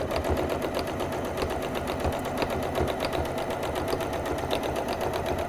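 A sewing machine stitches felt onto background fabric for a popsicle zipper pouch, running in a steady rapid rhythm of needle strokes, close and continuous throughout.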